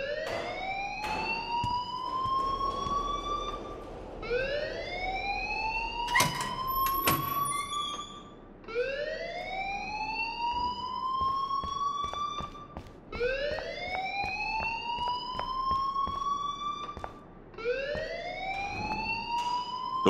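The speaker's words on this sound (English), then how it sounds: "please turn off that alarm since that's your job" A school alarm rings in the game Life is Strange as repeated rising electronic whoops, about five sweeping cycles over twenty seconds, loud and insistent, with a few sharp clicks between them.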